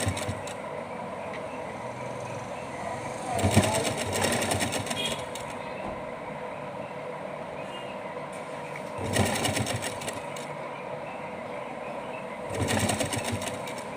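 A sewing machine stitches a small handmade doll dress in three short bursts of rapid, whirring clatter, separated by quieter pauses filled with low background hum.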